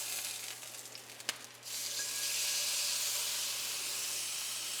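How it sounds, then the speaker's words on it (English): Meat hitting hot oil in a pan gives a sharp tap, then a strong steady sizzle that stays loud and even. "We wanna sear this for about 3 to 5 minutes per side and get a nice crust on it."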